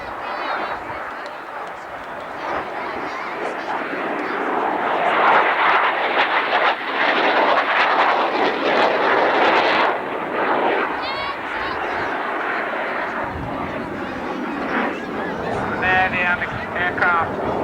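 Military jet at the 1991 Alconbury Airshow, a USAF Cold War-era aircraft manoeuvring at over 300 miles an hour: a loud roaring engine wash swells and holds, with a commentator talking over it.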